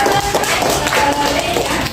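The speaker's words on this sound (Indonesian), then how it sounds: "Oke, tepuk tangan dulu." A high school economics class claps together in a classroom, producing a brief, loud burst of dense, continuous hand clapping.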